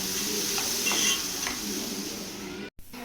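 Finely chopped onions turning golden in a pan for prawn thokku sizzle and hiss steadily up close, with light stirring scrapes and a brief dropout near the end.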